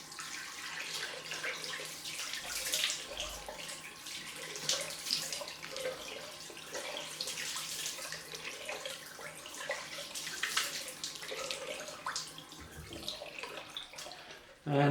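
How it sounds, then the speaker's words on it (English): Cold tap water runs steadily for a rinse after a head shave, a continuous splashing hiss of water from a faucet with small spatters, fairly close and alone, lasting throughout. "On with the cold water rinse."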